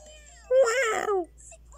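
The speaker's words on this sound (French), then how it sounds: "C'était quoi ce miaou?" A cartoonish cat meow from the Yo-kai Watch Blasters video game, a single drawn-out rising and falling cry lasting under a second, fairly loud and close, with no talk over it.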